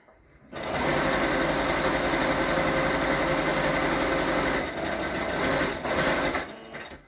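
A sewing machine stitches the seam of a fabric mask, its motor whirring in one steady, close, continuous run that starts abruptly and eases off near the end.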